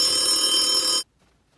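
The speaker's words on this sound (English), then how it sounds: "We're getting our first phone call, guys!" A telephone rings with an incoming call, a loud, bright continuous bell trill for about a second that then stops abruptly into near silence.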